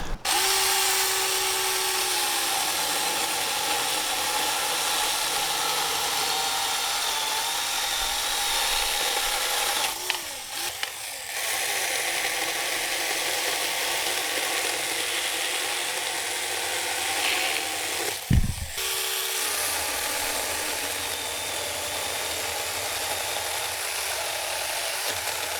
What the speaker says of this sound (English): so we're basically going to see how many cuts this thing will do.